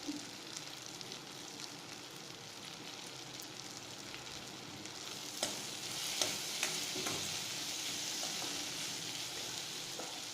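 Tomatoes sautéing in a pan for Tamil-style ginger chutney, a steady close sizzle with a few scraping stirs that swells louder partway through, with no talking.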